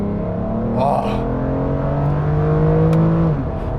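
A 2008 Aston Martin DB9 coupe's V12 engine pulls hard, a loud rising roar with harmonics climbing over a few seconds before easing off, heard from inside the car with a brief exclamation from the driver.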